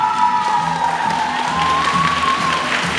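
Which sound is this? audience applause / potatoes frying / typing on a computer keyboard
audience applause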